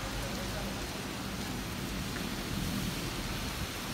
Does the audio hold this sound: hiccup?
no